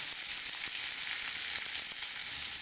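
Meat browning in a frying pan sizzles loudly and evenly, a dense close crackle with occasional small pops throughout.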